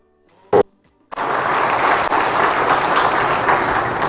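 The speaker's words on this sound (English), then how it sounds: "Please, one more time, a round of applause." Audience applause at a sod cutting ceremony for phase two of an oil refinery in Ghana, a dense sustained wave of clapping that starts abruptly after a brief sharp sound and carries on steadily and loudly to the end.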